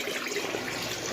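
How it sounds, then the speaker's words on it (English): Drain water from a small apartment washing machine pours steadily into a sink, a continuous close rushing and splashing with no breaks. "When you turn it to drain, your water will flow out."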